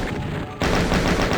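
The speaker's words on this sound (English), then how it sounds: "but I am just going to chain gun him, I think." A chaingun in Doom II fires at the Annihilator, a loud, rapid run of gunshots that kicks in abruptly partway through and keeps hammering at an even pace over a busy background.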